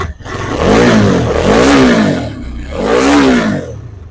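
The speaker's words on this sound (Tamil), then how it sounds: "நார்மலாக இருக்கிற டாமினரோட இந்த வண்டி கொஞ்சம் சவுண்ட் அதிகமாக இருக்கும், நல்லா ஸ்போர்ட்டியாக இருக்கும்" A Bajaj Dominar motorcycle with a dual silencer exhaust, louder and sportier than stock, revs up close and loud, its engine roar swelling and easing back twice.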